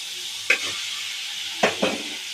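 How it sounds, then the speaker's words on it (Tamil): Capsicum and roasted soya chunks being sautéed in a pan for soya chunks pepper rice. Three quick stirring scrapes sound over a steady, soft sizzle of frying. "இப்போ குடமிளகாயை சேர்த்து வதக்கிட்டு நம்ம வறுத்து வச்சுருக்கிற சோயா சங்க்ஸை இதில் சேர்த்துருவோம்."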